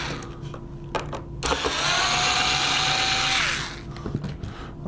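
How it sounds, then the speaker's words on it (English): A power drill or driver whirs steadily for about two seconds, rising in pitch then winding down, as screws are backed out of the front gear support platform on a paddle wheel assembly; brief clicks and handling noises surround it. "You simply remove those 3 screws."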